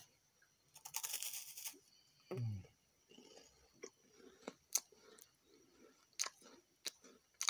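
Someone bites and chews a crunchy So Tango French Vanilla Milk wafer, giving a quiet, close series of dry crunches and crackles spread irregularly with short pauses between bites.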